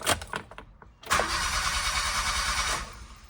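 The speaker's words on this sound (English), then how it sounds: "I'll be taking the key, putting the ignition, and trying to start it." Honda Vamos engine cranked with the ignition key during fuel pump work: a few faint clicks, then the starter catches at about one second and the engine fires up, settling into a steady, fairly loud idle that fades near the end.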